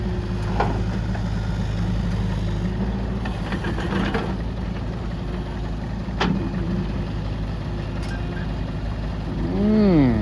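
A Kubota KX033 mini excavator diesel engine runs steadily at close range, its rumbling drone rising near the end as the revs climb, with faint speech beneath at times.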